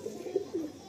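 A Kalsira pigeon coos close by in a few soft, low rolling phrases, with no talk over it.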